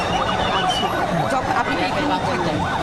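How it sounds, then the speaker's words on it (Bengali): An ambulance siren wails on a city street in Bangladesh, its rising and falling tone loud and continuous, with crowd chatter and traffic noise mixed in. "অ্যাম্বুলেন্সে করে লাশ নিয়ে যাচ্ছে মানে রুগী নিয়ে যাচ্ছে"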